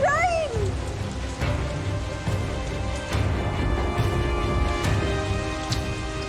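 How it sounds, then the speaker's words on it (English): Heavy rain pours down steadily at an outdoor wedding, a dense, continuous wash of downpour throughout, with faint voices and a brief high vocal sound near the start. "Basically bucketing down rain."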